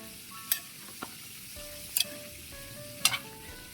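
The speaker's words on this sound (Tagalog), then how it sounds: "Pipirito tayo ng tilapia." Tilapia fries in hot oil with a steady low sizzle, and three sharp utensil clinks or oil pops stand out near the start, middle and end of the clip.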